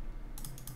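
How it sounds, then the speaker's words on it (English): Computer keyboard keys pressed in a quick cluster of three or four close clicks while working in Adobe XD, following a brief quiet stretch. "hit 0 on our keyboard 2 times to lower the opacity down"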